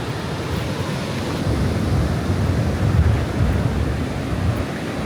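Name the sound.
ocean waves crashing onto rocks at Tanah Lot, Bali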